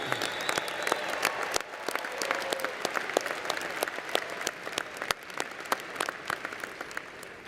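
A large commencement crowd in a university ceremony hall applauds continuously, with many overlapping hand claps forming a thick, sustained wash that swells and dips slightly over several seconds.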